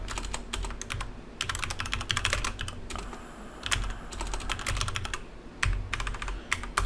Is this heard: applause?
no